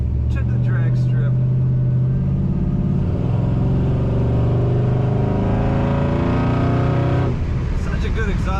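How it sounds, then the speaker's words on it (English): A 1962 Chevrolet Nova restomod rumbles through its exhaust, a loud, close, sustained engine note that rises and falls in pitch as it revs, with a voice speaking over it. "Such a good exhaust note in this car."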